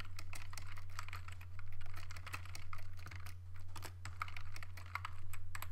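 Quiet keystrokes on a computer keyboard come in short bursts of typing separated by brief pauses, close but soft over a steady low electrical hum.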